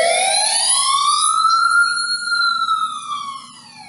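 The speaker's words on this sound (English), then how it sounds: "and the ambulance goes away" An ambulance siren wails alone, loud and clear, its tone sliding up and slowly back down as the vehicle drives off and the sound fades.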